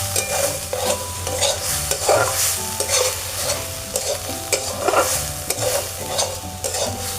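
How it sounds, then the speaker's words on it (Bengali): Tomato with ginger and cumin paste is stirred in a pan over a clay stove for a glasscup fish curry, giving a steady sizzle broken by repeated scraping strokes of a spoon at a close, even rhythm. "আদা জিরে দিয়ে আবার কিছুক্ষণ কষিয়ে নেব।"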